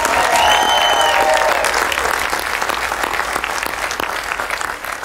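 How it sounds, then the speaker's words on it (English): An audience applauds IndyCar champion Will Power of Team Penske at the 2014 championship celebration in Los Angeles, sustained dense clapping from a large crowd throughout, with a few cheers at the start. "Another round of applause for Team Penske's Will Power"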